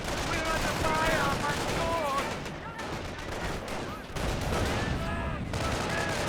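Continuous battle gunfire from a Company of Heroes 1 match between Wehrmacht and US forces, dense overlapping shots and bursts at steady loudness with game effects layered throughout.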